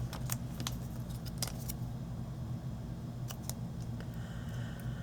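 Scissors cut small triangles from scrap paper for flower embellishments, with a few quick crisp snips clustered early and again later over a steady low hum.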